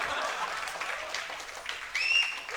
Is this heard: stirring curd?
no